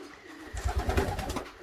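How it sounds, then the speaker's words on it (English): Racing pigeons, a loft of roughly 70 young birds, give a low, rolling murmur of cooing that swells and pulses steadily at close range, with no talk over it. "Roughly 70 pigeons, 70 young birds."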